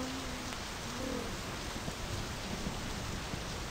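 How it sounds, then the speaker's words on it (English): Steady rain falls in the video game My Summer Car, a dense, even hiss with no break and no voices, with a few faint tones under it. "It is raining again."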